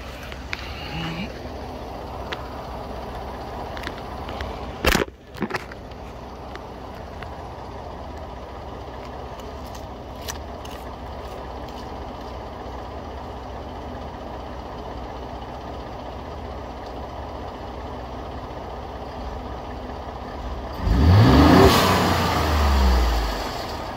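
A Ford F150 EcoBoost truck parked on a driveway idles quietly for most of the stretch, with a couple of brief clunks early on, then revs up loudly near the end.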